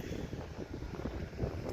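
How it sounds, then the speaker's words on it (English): Wind blows outdoors on Tenerife, a low, steady rumble buffeting the microphone for under two seconds, with no voices over it. "quite windy and all."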